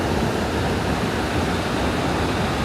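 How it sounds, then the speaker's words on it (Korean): The Iguazu waterfall in Brazil roars as a steady, dense wash of broadband rushing water. It stays loud and unbroken throughout, with no voices over it. "이 폭포가 정말 길게 돼 있구나"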